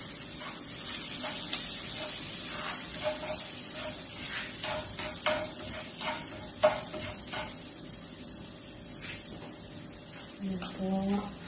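Vegetables with capsicum stir-frying in a pan, a steady sizzle and hiss with repeated scraping stirs, close by, and a voice talking briefly near the end.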